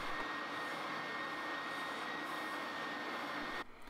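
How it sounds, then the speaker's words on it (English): A spindle sander smooths and widens a hole in a piece of wood, giving a loud steady whirring hum with a faint abrasive hiss that cuts off abruptly near the end. "then I can take it to the spindle sander, clean it up and just open up that hole a little"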